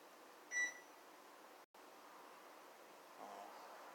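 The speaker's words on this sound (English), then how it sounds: "That was the company phone giving me an alert." A company phone gives one short electronic alert beep with a few bright tones, fairly faint in a quiet room over a low steady hum.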